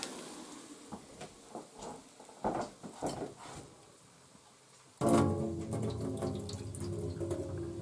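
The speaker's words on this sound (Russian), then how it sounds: "Надо вылить воду оттуда" Water being poured out of a pot before rice is added, while cooking duck pilaf in a multicooker; a few soft splashes and trickles give way to a louder, steady gushing stream into a sink for the last few seconds.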